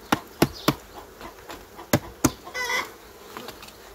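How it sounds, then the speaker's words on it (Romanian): A honey bee colony being heavily disturbed while a beekeeper works through the hive frames, with a buzzing drone under sharp knocks and clatters of frames and tools close by. "Acum facem deranjul maxim a unei colonii de albine."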